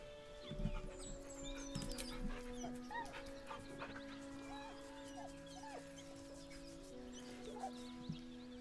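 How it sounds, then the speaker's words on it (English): A dog in a video game whimpers nervously in short, soft, high-pitched whines over a steady background drone of game music and hum. "The dog whimpers nervously"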